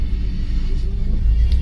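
Heavy road traffic on a Delhi ring road near the Hyatt, a steady low engine rumble from many vehicles that swells toward the end, with no voices.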